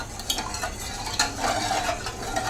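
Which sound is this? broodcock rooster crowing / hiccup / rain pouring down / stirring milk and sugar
stirring milk and sugar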